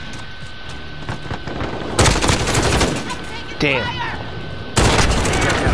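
Grau 5.56 assault rifle fire in Call of Duty: Modern Warfare, loud close bursts of rapid automatic shots in two main volleys, with a player speaking briefly between them.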